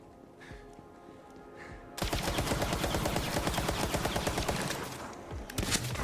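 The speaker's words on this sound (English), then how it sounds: "Let's go shoot some stuff." Rapid automatic gunfire from a shooter game played on a Steam Deck handheld, bursting in loudly after two seconds of quieter game ambience and rattling on continuously with dense, overlapping shots until the end.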